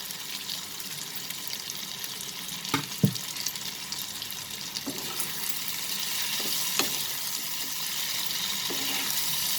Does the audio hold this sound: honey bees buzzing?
no